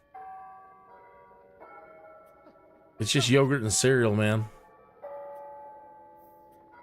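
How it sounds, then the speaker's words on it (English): Church bells ring in the Sims 4 game, sustained tonal chimes heard faintly before and after a burst of close talk, which masks them briefly. "Oh, I hear the church bells or bells."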